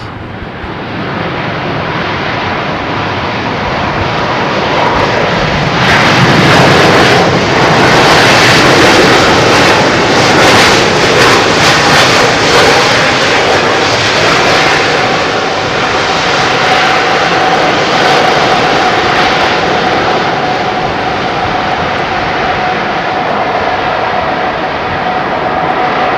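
Airliner at London Heathrow roaring through a landing, a loud, sustained jet engine rumble that swells midway and stays strong throughout, with no talk.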